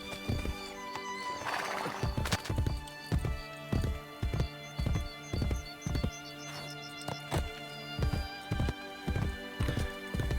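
A horse in Assassin's Creed Brotherhood neighs, then its hooves clip-clop in a steady, evenly spaced trot. The sound is close and clear, with no talking over it.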